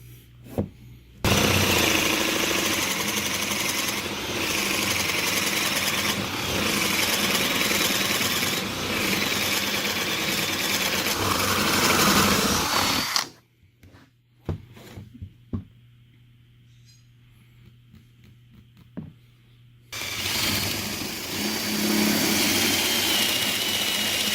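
Drill boring angled holes in wood for a carpenter bee trap: a long, steady, loud motor run, a quieter stretch with scattered knocks, then the drill starting up again close by.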